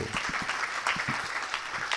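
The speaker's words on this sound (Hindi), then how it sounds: "उनके लिए आप जरा जोरदार ताली दो।" An audience at a Hanuman Chalisa gathering claps for the pandit, a dense, steady burst of many hands close by and continuing for the whole stretch.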